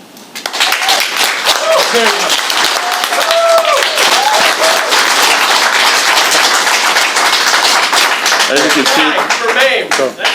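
A school board meeting audience breaks into loud applause, sharp hand claps mixed with whoops and shouted voices, rising quickly and staying strong before easing off.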